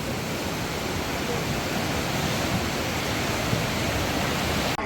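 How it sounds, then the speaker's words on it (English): A powerful river on the Tajik-Afghan border rushes in a loud, unbroken roar of churning water, steady and close throughout. "And the river, so powerful."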